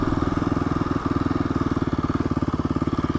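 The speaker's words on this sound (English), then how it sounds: "Got a little crotch rocket in front of us." A small sport motorcycle, a crotch rocket, rides ahead on the road, its engine droning in a steady fast pulsing rhythm that stays loud and constant throughout without voices.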